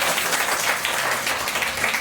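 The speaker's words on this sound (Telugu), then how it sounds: "గట్టిగా చప్పట్లు పెడదామా?" A church congregation claps loudly together, a dense continuous burst of applause filling the whole moment with no pauses.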